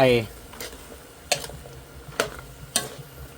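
Zucchini and carrot being stir-fried with pork in a pan, quiet sizzling broken by a few sharp utensil clacks against the pan, spaced irregularly, with a brief voice at the start.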